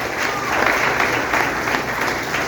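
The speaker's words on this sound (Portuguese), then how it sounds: "Pode aplaudir a Ele." A church congregation applauds during a family worship service, dense sustained clapping from a large group that fills the room, steady and fairly loud with faint crowd murmur beneath.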